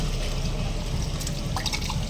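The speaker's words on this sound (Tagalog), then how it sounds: "Running water kami. Mahina lang ang daloy ng tubig." Steady low running water from a tap at low flow, a continuous gentle trickle with faint dripping accents, fairly close and uninterrupted.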